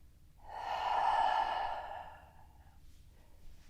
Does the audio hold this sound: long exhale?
yes